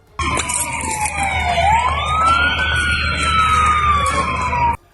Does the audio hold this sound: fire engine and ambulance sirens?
yes